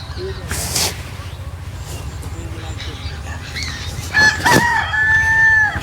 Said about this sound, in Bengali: মুরগির ডাক শুনতে পাচ্ছেন সকালবেলা যে ডাকটা দেয়